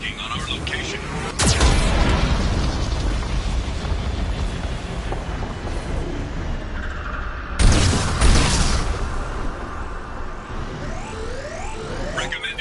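Geth cannon explosions in the video game Mass Effect 2: two loud, sudden booms spaced several seconds apart, each followed by a rumbling tail, over a steady low battle drone, with faint voices in the background.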